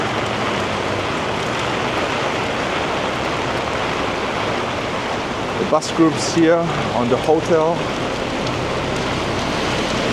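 Dense, roaring wind and rain from a storm on a beach in Da Nang, Vietnam, wash over everything in a constant broadband rush, with a voice briefly speaking partway through.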